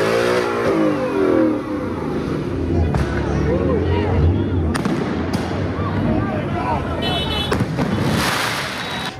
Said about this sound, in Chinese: Fireworks lit up the night sky